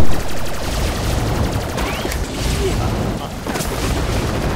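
Sustained gunfire in Borderlands The Pre-Sequel, a dense stream of rapid shots with a few sharper cracks, heard alongside game effects and speech throughout.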